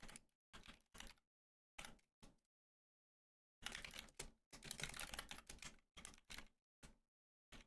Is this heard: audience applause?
no